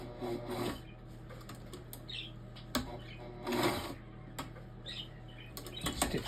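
A sewing machine stitches the strap of a one-liter water bottle bag, running in short bursts of whirring with clicks and pauses between runs, close and fairly quiet.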